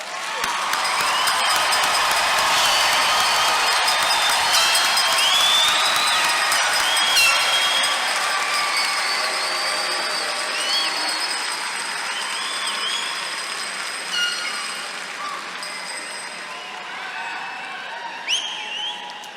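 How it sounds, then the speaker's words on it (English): Sustained applause from a large audience honoring graduates at a Tennessee Tech University spring commencement ceremony, dense clapping with scattered cheers and whistles filling the hall, slowly tapering toward the end. "Let's give these graduates one more round of applause."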